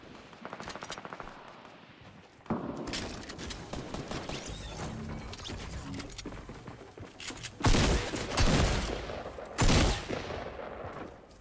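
Pump shotgun blasts and other gunfire from Fortnite come in rapid, punchy bursts and a few heavy booming shots, with loud peaks between busier stretches of rattling fire.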